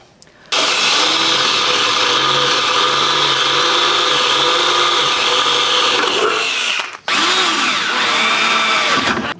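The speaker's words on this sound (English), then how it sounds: "We'll drill a couple of holes in here, mate." A power drill bores holes through metal for brackets on a Land Rover Defender coffee van, a loud, steady whine running for about six seconds, briefly stopping, then starting again close by.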